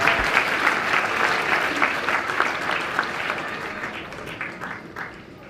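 Guests at a wedding reception applaud together, a lively burst of clapping that starts strong and gradually thins and fades toward the end, with no talk over it.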